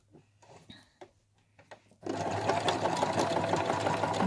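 A sewing machine quilts a fabric scissor case, starting after a few soft handling clicks and then running steadily and loudly without pause.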